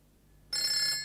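A telephone bell starts ringing abruptly after a quiet moment, a bright, loud, continuous electronic trill in an indoor room, with no voices.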